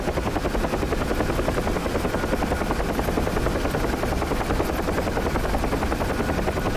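A helicopter in the DCS World flight simulator descends in autorotation after a fuel cut, its rotor giving a loud, dense, continuous rhythmic chop over a steady engine and wind roar.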